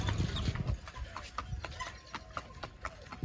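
A Marwari mare walks with a steady clip-clop of hooves, about two sharp strikes per second, close by and clear over low background rumble and faint voices.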